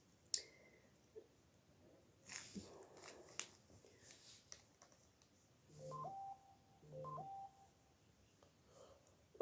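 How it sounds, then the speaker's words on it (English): Phone notification sounds from a second phone in a quiet room, two short chimes of rising tones a second apart, faint and close. Scattered clicks and small handling noises come before them. "here come the notifications again, but this time it's on one of my other phones."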